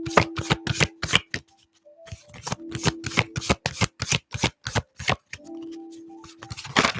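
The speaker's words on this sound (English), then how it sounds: "let's start shuffling for your new moon card" Tarot cards are shuffled in quick riffling bursts, a crisp rapid flutter repeating several times at close range.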